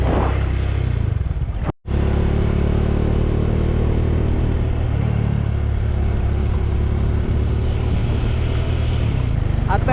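A car runs along a narrow winding asphalt road in the Sahyadri hills of Konkan, its engine a steady close low rumble with road noise, briefly cut near the start, while someone talks over it.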